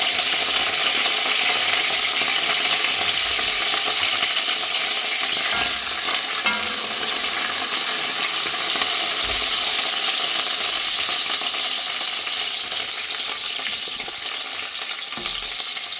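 Shallots frying steadily in a pan with curry leaves for a Kerala mutton curry, a continuous dense sizzle and crackle with occasional stirring knocks, close and fairly loud throughout.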